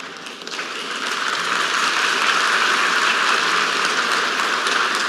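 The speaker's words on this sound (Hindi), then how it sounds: "आप गया था इसकी ताली बजा रहे हो" Applause from a large audience at a semiconductor conference in New Delhi swells quickly into a dense, sustained roar of clapping that stays loud throughout.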